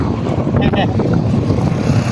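Strong wind blows across an open floodway in Pasig, a loud, continuous roar buffeting the microphone, with people talking close by under it.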